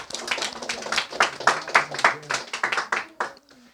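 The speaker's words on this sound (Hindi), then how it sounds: "एक बार जोरदार ताली से बच्चा के लिए बजा दीजिए" An audience in a classroom physics lesson claps loudly for a child, a burst of uneven, overlapping handclaps that thins out toward the end as a voice comes in.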